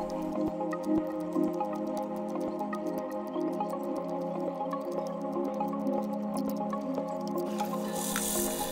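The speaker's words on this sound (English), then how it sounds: "scrubbing each keycap using some dishwashing liquid and water" Keyboard keycaps from an IBM 5155 portable computer scrubbed with dishwashing liquid and water, giving soft continuous wet squishing and dripping with faint clicks, close and steady throughout.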